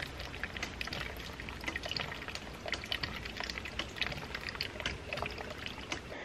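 Water flowing steadily from a ram pump fitted with a waterlogged pressure tank, a continuous splashing, pouring wash with no popping, close and moderately loud, alone without talk.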